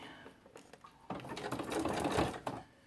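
Sewing machine stitching book page paper into ruffles: a few slow single stitches, then a loud close run of fast whirring, chattering needle strokes that stops abruptly, with no speech.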